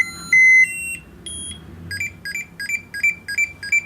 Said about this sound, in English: Why is he beeping?